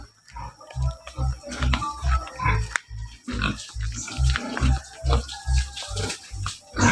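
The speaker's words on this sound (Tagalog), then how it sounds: "Yan ang mga alagang baboy na aking lolo at lola" Grandparents' pet pigs grunt in a steady rhythmic series of low, close calls, with faint rustling and farmyard noise around them.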